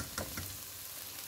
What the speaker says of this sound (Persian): بعد یه قاشق روب هم بهش اضافه میکنیم و خوب با روب تفتش میدیم